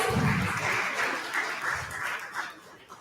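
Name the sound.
audience applause for a speaker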